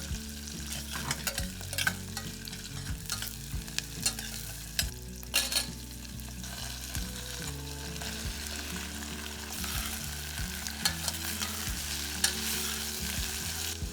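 Celery, onion, potato and squash sauté in a hot pan for a vegan butternut squash soup, giving a steady sizzle broken by repeated scrapes and clatters of stirring, close and without talk.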